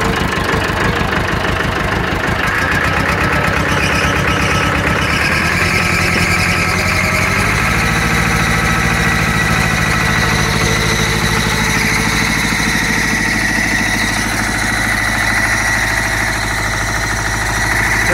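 Massey Ferguson 275 diesel farm tractor with engine knock, idling with a rapid clattering beat before revving up into a louder, steadier roar with belt whine, close and continuous.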